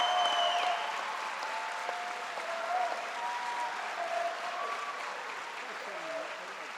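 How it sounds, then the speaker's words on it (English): Audience applauding for the governor at an event, a continuous wash of clapping with a faint held tone and a few cheering voices mixed in, slowly tapering toward the end. "let us thank, and a round of applause first"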